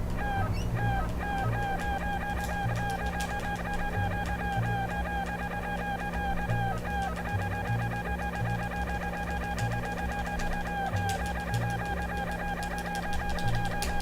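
Chickens cluck and squawk in the Secret of Evermore video game, repeated short calls in a steady rhythm over looping background music, with no talk.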